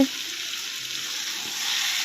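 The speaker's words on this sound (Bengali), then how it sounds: "ভাজা ভাজা করে তারপর মাছগুলোকে নামিয়ে নেওয়া হবে।" Katla fish pieces frying in hot oil in a pan, a steady dense sizzle heard up close and alone with a slight stir at the start.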